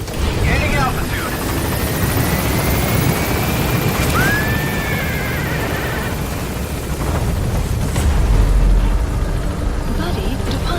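A helicopter in Metal Gear Solid V: The Phantom Pain climbs away from a landing zone, its loud continuous rotor and engine roar filling the scene, with some radio-style voice chatter over the top.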